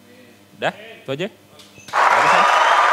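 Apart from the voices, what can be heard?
applause from audience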